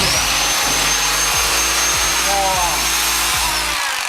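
A loud Bosch rotary hammer drill runs steadily throughout during renovation work, with a heavy rhythmic thudding pulse underneath, up close and continuous until it winds down near the end.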